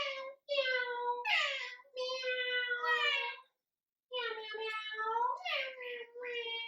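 A child imitates a cat's meow during a kids' yoga class, giving a series of drawn-out, whiny meows in two bursts separated by a short pause.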